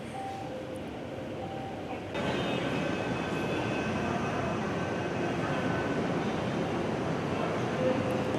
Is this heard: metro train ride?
yes